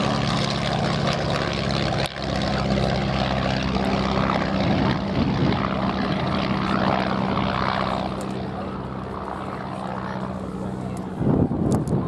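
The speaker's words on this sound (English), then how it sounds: "Look at the airplanes." Propeller military airplane engines drone loudly overhead at an airshow, a steady rumbling hum that swells and fades as the aircraft pass, with people talking underneath.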